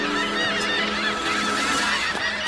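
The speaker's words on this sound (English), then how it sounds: "What are those seagulls up to?" Seagulls call noisily in a dense, continuous chorus of overlapping honking cries, loud and close throughout with no talk.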